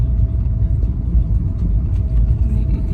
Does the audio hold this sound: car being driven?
yes